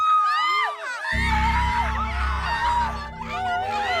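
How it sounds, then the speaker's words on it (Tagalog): Loud, high-pitched shouting and screaming voices, with a sudden burst of noisy commotion joining in partway through. "Pero biglang nahinto sa pagsasalita si Roy nang makarinig kami ng malakas na hiyaw mula sa labas."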